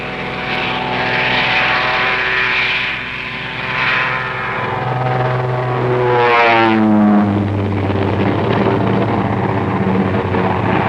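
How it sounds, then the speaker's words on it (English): Royal Air Force propeller warplanes in a wartime aerial offensive over occupied Europe, a loud continuous engine drone with rising and falling pitch as aircraft pass close, steady throughout with no talking. "hundreds of Royal Air Force planes engaged in a non-stop aerial offensive over occupied Europe"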